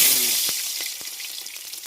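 Onions frying in hot oil for a large batch of chicken fry, giving a steady close sizzle with a few soft pops and clicks and no talking.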